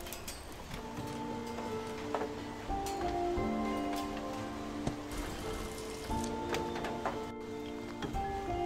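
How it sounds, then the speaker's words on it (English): Steady rain patters in the video game Rainy Day, a dense drizzle of drops throughout with sustained musical tones and occasional sharper ticks layered over it. "I don't want to be in the rain at all."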